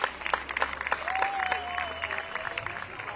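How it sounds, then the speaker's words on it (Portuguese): Crowd applause at a women's football trophy ceremony as Benfica receive the champions' trophy, steady clapping with voices and a whistle-like tone running through it. "Uma salva de palmas."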